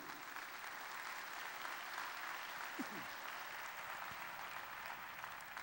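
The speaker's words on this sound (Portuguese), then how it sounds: "Aplaudam o Senhor" A church congregation claps during a worship service, a faint, steady, distant patter of many hands that runs evenly throughout, with a brief voice-like sound partway through.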